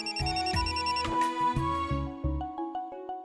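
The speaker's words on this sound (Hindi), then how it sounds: "फोन बज रहा है" A phone rings with a bright, melodic ringtone of repeating electronic notes, loud and close. It plays alone in a domestic scene from a Hindi TV serial, with no talking.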